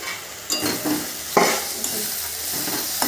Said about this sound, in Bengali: ওইভাবে একটু নাড়াচাড়া করে নেব খুব ভাজবার দরকার নেই